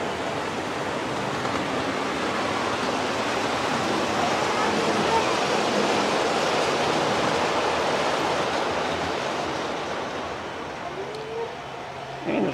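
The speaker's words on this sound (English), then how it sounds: "And there's a waterfall." A waterfall feature on a model train layout pours with a steady, even rushing hiss that fills the space and eases slightly near the end, with faint voices in the background.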